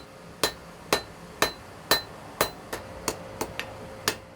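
A blacksmith's hammer strikes metal in a steady series of about eleven sharp, ringing blows, evenly spaced at roughly half-second intervals, close and clear with a slight metallic ring after each hit.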